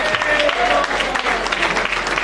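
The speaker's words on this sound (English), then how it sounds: "Give those guys a round of applause." A crowd applauding steadily, a dense wash of clapping that stays loud throughout the short stretch.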